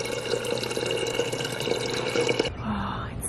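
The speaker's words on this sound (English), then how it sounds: "I'm gonna fill up my water" Tap water running into a water bottle at home, a steady rushing splash that stops abruptly partway through, leaving a quieter room tone with a faint low hum.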